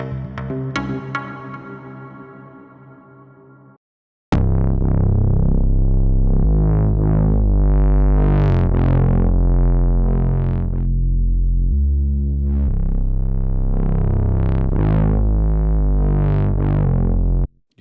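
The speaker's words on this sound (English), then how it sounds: "this is your more traditional kind of overdrive. It's based off the popular screamer effect inside of Guitar Rig" Maschine 2.3's screamer-style overdrive distorts a looping synth and drum pattern, loud and gritty with pulsing notes, after a short dry passage and a brief gap.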